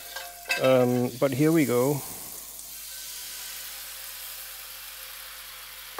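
Crepe batter cooks in a cast iron pan with a soft, steady sizzle under a man's brief speech, the hiss carrying on alone afterward.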